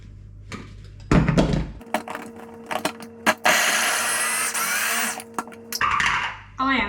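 A small electric food chopper whirs loudly for a few seconds as it chops vegetables for a vegan butternut squash bolognese, bracketed by lid clunks and handling thuds.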